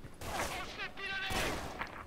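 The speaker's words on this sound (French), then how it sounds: "C'est un fusil à pompe." Shotgun blasts in S.K.I.L.L. Special Force 2 team deathmatch on the Hangar map: two or three sharp bursts of gunfire mixed with game noise while a player talks over them.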